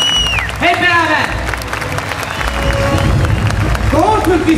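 A crowd applauds and cheers at a gathering about East Turkistan, the clapping steady and loud throughout, with voices and a melodic vocal line rising over the noise.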